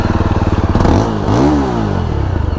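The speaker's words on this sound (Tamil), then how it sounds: "சவுண்டை மட்டும் நீங்களே வந்து ஸ்டார்ட் பண்ணி பாருங்க" Yezdi Roadster 350 motorcycle engine starting up and settling into a loud, close, steady thumping idle with a brief rev in the middle.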